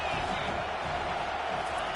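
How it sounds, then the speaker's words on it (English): A football stadium crowd roars before second down, a dense, sustained wall of cheering and noise that stays loud and even throughout. "this crowd is turning it up a notch"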